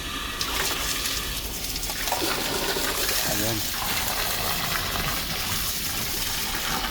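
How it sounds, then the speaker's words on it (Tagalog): Water is poured into a turtle tank with a steady, close gushing splash throughout, while a person talks briefly over it. "Nagdagdag tayo ng tubig."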